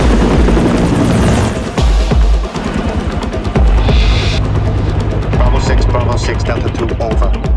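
A movie helicopter hovers near a sniper position in a loud, continuous throbbing rotor roar that fills the scene, with a voice briefly over the noise.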